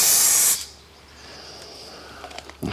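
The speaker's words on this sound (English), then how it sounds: "you sprayed it now. So you do quite a lot of spray painting, rattle can spray painting" A rattle can sprays paint onto a BMW E46 330Ci car part in an open, ventilated space, a loud close hiss lasting about half a second, then quiet room tone and a faint short hiss at the end.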